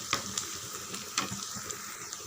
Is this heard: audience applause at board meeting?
no